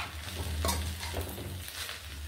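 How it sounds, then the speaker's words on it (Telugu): Gongura leaves fry in a little oil while being stirred in the pan, a steady crackling sizzle with scraping stirs and a clink of the utensil against the pan, no voices. "గోంగూర ఇలా వేగుతుంది."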